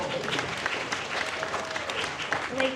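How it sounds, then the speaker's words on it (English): Applause from a packed audience at a sold-out screening of Texas Chainsaw Massacre for its 50th anniversary, a steady, dense wash of clapping with crowd murmur and a few voices mixed in throughout. "So give yourself a round of applause."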